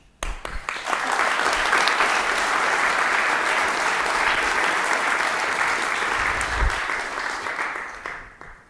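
Sustained, dense applause from a conference audience at a talk swells quickly and holds steady for several seconds before tapering off.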